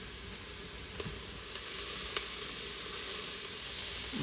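Garlic sautés in an Instant Pot, a soft, steady sizzle and hiss with a few faint stirring clicks, heard alone without talk.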